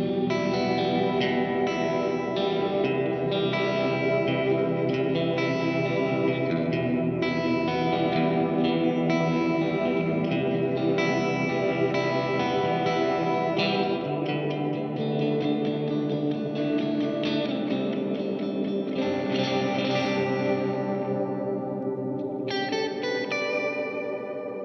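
An electric guitar played through a Line 6 POD GO multi-effects unit as its reverb decay and mix are adjusted, a dense, continuous wash of echoing, chorused, slightly distorted chords that rings steadily and changes near the end.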